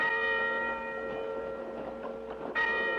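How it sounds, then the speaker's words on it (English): Church bells ringing the Angelus at noon, a sustained bell tone with shimmering overtones that fades slightly and then a fresh strike rings out near the end, fairly close and alone. "Church bells? This ain't Sunday."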